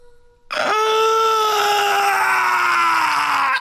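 A video game character from a Capcom title lets out a single loud, sustained scream, starting abruptly and holding strong for about three seconds before cutting off, alone with no talk.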